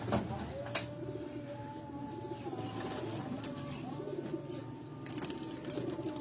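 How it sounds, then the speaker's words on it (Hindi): A khaki-headed pigeon coos in steady, drawn-out, repeated calls close by, over a constant background hum with faint voices underneath. "तो ये कबूतर जो है ये खाक सिरा कबूतर आप देख रहे हैं।"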